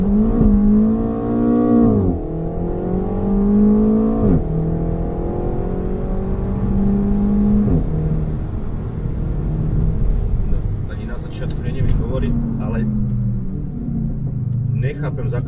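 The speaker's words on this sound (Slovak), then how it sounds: "Nechápem, s akou ľahkosťou sa to auto rozbehlo" A 2021 Renault Megane R.S. Trophy accelerates hard in race mode with manual paddle shifting, its engine rising loudly through several gears with sharp drops at each upshift and rumbling nearby, while a voice speaks over the later part.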